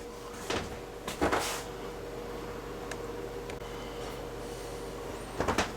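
A Whirlpool washing machine door is handled with a few sharp clunks and rattles near the start, then quiet room tone before more knocks at the end.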